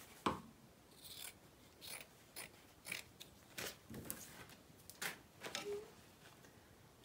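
Scissors snip away excess material close to the stitching of a handmade wristlet wallet, a series of short, quiet, crisp cuts spaced irregularly in a hushed room.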